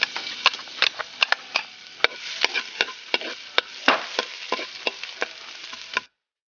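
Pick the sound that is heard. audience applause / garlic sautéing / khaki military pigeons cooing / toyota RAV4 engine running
garlic sautéing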